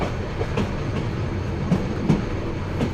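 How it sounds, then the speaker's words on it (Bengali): A train winds into Chattogram railway station with a steady rumble and a few soft clacks of wheels over rail joints, heard from on board and unbroken by speech. "ট্রেন সাপের মতো এঁকে বেঁকে চট্টগ্রাম রেলওয়ে স্টেশনে প্রবেশ করছে।"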